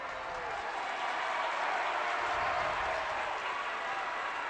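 Canyon View's home crowd at a high school basketball game against Desert Hills cheers and applauds in a steady, fairly distant wash of noise that stays level across the whole stretch.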